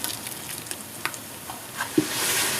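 Whole garam masala spices such as black cumin, white cumin and star anise fry with ginger and garlic in hot oil for mutton white biryani, a close, soft continuous sizzle with light stirring taps and a brief louder spatter near the end.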